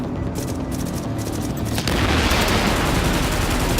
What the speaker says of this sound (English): Put another grenade in there